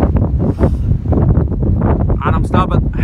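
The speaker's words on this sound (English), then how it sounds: "I'm getting hammered by the wind. It's really windy." Strong wind buffets the microphone in loud, rumbling gusts while cycling on Ireland's Wild Atlantic Way, with a voice speaking through the roar.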